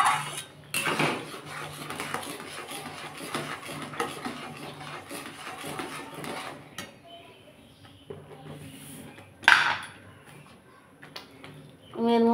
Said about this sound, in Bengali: বন্ধুরা, এবার এটা কন্টিনিউ এরকমভাবে নেড়ে যেতে হবে যতক্ষণ না এর মধ্যে একটা চিট ভাব আসে।